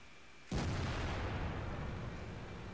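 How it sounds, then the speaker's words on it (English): A tank destroyer's main gun fires in a World of Tanks style tank battle game, one sudden loud blast followed by a long rumbling, fading tail over steady background noise. "he's not afraid to fire some blind shots"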